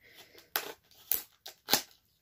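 A utility knife slices into thick plastic packaging in four short, crisp bursts of scraping and crackling, close and fairly quiet, with brief pauses between strokes.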